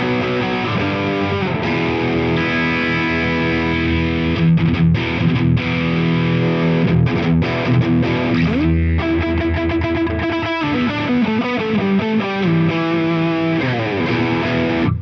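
Electric guitar played through an Eventide Riptide digital drive pedal, a thick, sustained overdriven tone with chords and riffs, loud and close throughout with no talking.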